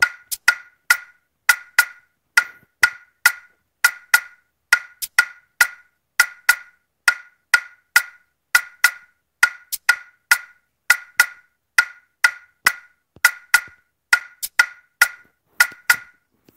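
A programmed wood percussion hit and shaker loop from FL Studio Mobile plays a steady, crisp repeating pattern of short clicks and shakes, fairly quiet and alone for an Afrobeat groove.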